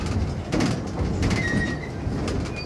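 A passenger train on a short scenic railway at a former quarry town rolls slowly into a station, its steady rumble broken by wheel clatter and faint high squeals from the rails.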